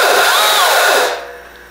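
A power saw runs loud and close in a garage, its motor whining with a rising and falling pitch before cutting off abruptly partway through.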